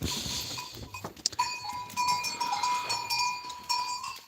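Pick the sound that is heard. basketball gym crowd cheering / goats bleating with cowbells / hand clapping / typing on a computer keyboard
goats bleating with cowbells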